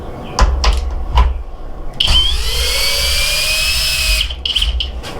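A Flex 24 volt Turbo FX1271T hammer drill gives a few short bursts, then runs continuously on its low speed setting with a loud, close whining motor tone for a few seconds before spinning down.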